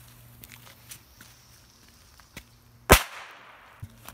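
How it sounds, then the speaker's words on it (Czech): A Crash firecracker goes off in one sharp, loud bang near the mic, with a brief decaying tail. Quieter scattered clicks and taps come before it. "Takže petarda crash."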